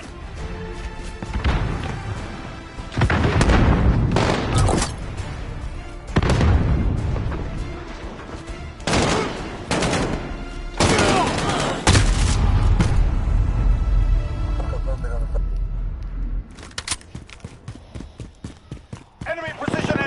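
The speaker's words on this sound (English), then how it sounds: "Enemy precision airstrike. Take cover." Precision airstrike explosions in a PS4 multiplayer shooter game, with a series of heavy booming blasts rumbling one after another beneath ongoing voice chat.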